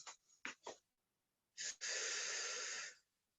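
Quiet breathing during a stretching exercise: a few short sniffing inhales, then a brief pause and a long, steady breathy exhale lasting over a second, close and soft with no talking.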